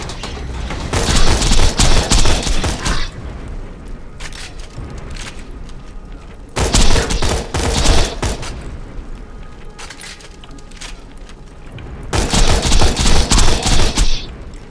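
Gunfire from the video game Borderlands 2: three loud, sustained bursts of rapid shots, each lasting a couple of seconds, separated by quieter stretches of background game noise.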